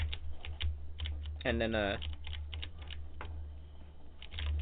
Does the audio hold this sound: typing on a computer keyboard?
yes